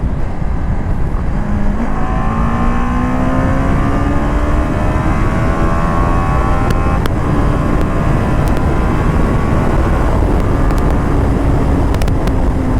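A loud BMW G 310 GS motorcycle engine runs steadily throughout, its pitch rising and sweeping as it revs, with a continuous roar and no talking.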